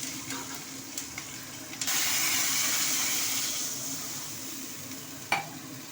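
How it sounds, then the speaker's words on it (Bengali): Black cumin seeds and two chillies tempering in hot oil, a steady sizzle that swells loudly around the two-second mark and holds, with a few light clicks and a sharp tap near the end. "তেলে আমি কালো জিরে দিয়ে দেবো দুটো লঙ্কা ফোড়ন দিয়ে দেওয়া হচ্ছে"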